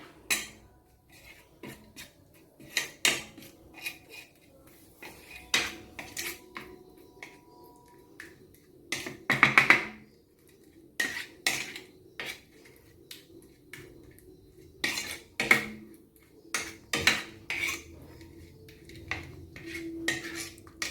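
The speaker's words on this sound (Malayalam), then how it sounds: "ഒരു സ്പൂൺ കടലമാവ് ചേർത്തിട്ടുണ്ട് നന്നായിട്ട് നമ്മളൊന്ന് ഇളക്കി കൊടുക്കാം" Spoon stirring a gram flour face pack in a bowl, a series of close clinks and scraping taps in irregular bursts with pauses between, no voices.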